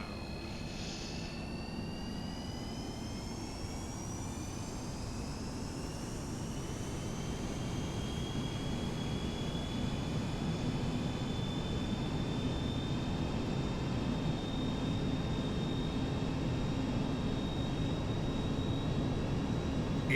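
Jet engines roar at takeoff power in a flight simulator on runway 03 left during a stormy Detroit-to-Boston departure, a steady broadband rumble that swells and holds loud throughout with a thin whine above, and no talk.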